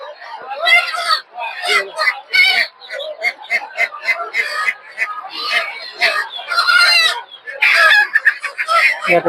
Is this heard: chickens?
yes